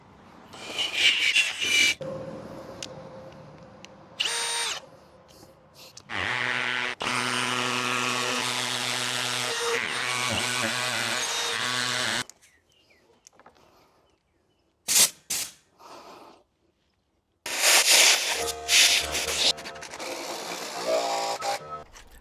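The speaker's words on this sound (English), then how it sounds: "Now I just need to drill a hole" A power drill whirs in a long sustained run drilling into wood during subfloor and joist work, with shorter bursts of motor noise before and after and quiet pauses between.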